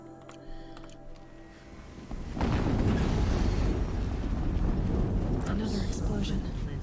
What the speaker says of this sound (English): Another explosion. Fantastic.